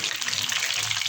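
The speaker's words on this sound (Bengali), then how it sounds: "আমি বললাম ভাজা হচ্ছে।" Pomfret fish sizzles in a frying pan on a stove, a short burst of close, bright crackling and hissing oil without any speech.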